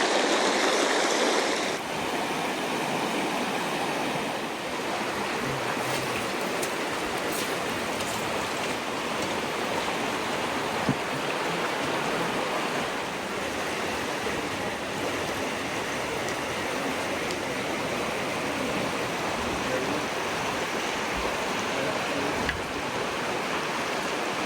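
River in Zion National Park rushing steadily, a continuous broad wash of flowing water that stays even and fairly soft throughout, with a few faint knocks.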